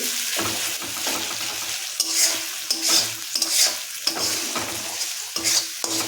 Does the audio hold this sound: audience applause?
no